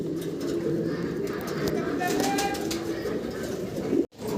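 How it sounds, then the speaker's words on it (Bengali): Danish pigeons coo softly amid rustling background noise and faint voices, then the sound cuts off abruptly. "ড্যানিশ কবুতর দেখাচ্ছি, একদম গোল্লা কবুতর মতো ছটপট করতেছে"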